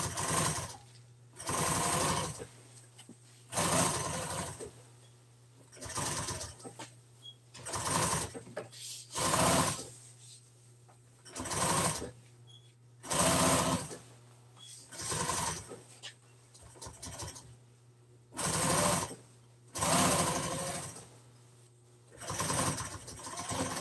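A sewing machine stitches fabric pieces together in a single seam, running in about a dozen short, steady bursts separated by brief pauses, close and clear with no talk.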